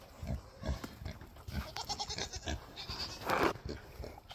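A pet pig wallowing in dirty water on a farm, grunting and squealing in several short bursts that swell into a louder squeal near the end, close by, with no talking.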